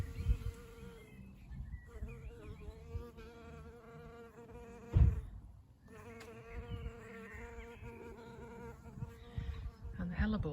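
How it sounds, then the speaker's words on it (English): Bees buzz steadily nearby around pulmonaria flowers in an April garden, a droning hum that swells and fades as they move around, with a brief bump partway through. "The bees."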